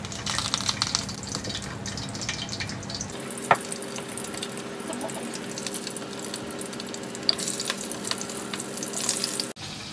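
Food frying in a small amount of oil in a home kitchen, a steady soft sizzle with occasional light clinks and crackles, fairly quiet and close, no talking.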